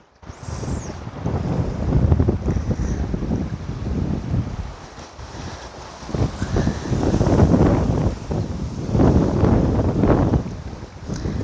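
Gusty wind buffets the microphone in a loud, rumbling roar that swells and eases in waves throughout, with no voices.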